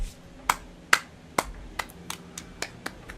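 A sarcastic golf clap: about eight light, sharp claps at a slow, uneven pace, close and fairly quiet over a low background hum.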